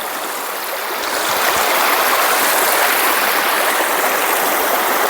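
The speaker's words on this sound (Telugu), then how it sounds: "ఏదో ఒక వాగును అయితే క్రాస్ చేస్తూ ఉన్నాము అక్కడ నుంచి వాగు వస్తుంది" A flowing stream rushes steadily where it is being crossed, close and loud, its broad watery hiss swelling after the first second and holding constant.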